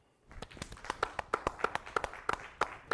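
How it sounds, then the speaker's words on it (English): A small audience in a theater applauds graduates, producing fairly faint, evenly spaced claps that carry on steadily throughout. "we're going to applaud for our graduates as we announce them"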